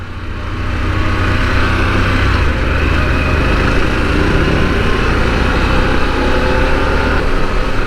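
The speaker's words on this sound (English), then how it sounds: "this thing screams. She's a high revving engine, much higher than the traditional V-twin" A Harley-Davidson Pan America motorcycle engine runs continuously, loud and close, with a dense buzzing roar that holds steady throughout and no speech.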